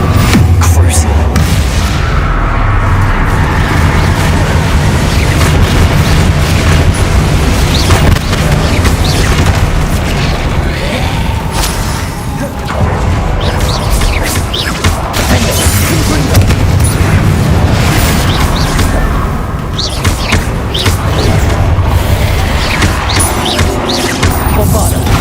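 Bombarda and Confringo explosive spells cast in Hogwarts Legacy, repeated booming blasts and crashes over a dense, continuous game soundtrack, with a voice talking throughout.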